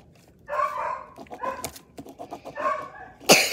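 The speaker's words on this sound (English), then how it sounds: "Sorry about my dog barking." A dog barks in a few sharp, close bursts separated by short pauses, with whimpery yips in between, fairly quiet overall.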